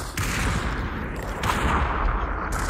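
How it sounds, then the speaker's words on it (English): Sniper shots and other gunfire crack out in a video game squad match, a few sharp reports over a steady rumble of battle noise, with no talk. "They just sniped me twice."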